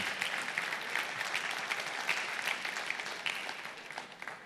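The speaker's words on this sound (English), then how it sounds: "Let's give Sridhar a round of applause for the great work done for the Rotary Foundation" A crowd claps at a Rotary session, the applause steady, textured and moderately loud, with individual hand claps popping out of the continuous patter for the whole stretch.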